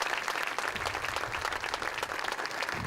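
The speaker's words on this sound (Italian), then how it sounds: "lo accogliamo con un applauso" Steady applause from an audience at an awards ceremony in Sardinia, many hands clapping continuously at even volume throughout.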